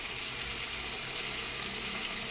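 Yogurt goes into a pan of frying onion, ginger and garlic for chicken biryani, giving a steady, bright hiss and sizzle that stays close and even for a couple of seconds.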